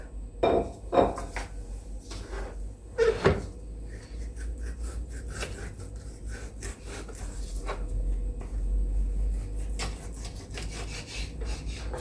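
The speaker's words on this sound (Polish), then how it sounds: "Zacznę od pokrojenia żeberek." A knife cuts and scrapes on a board with sharp knocks and rasping strokes, irregular and close, in a quiet room, cutting pork ribs.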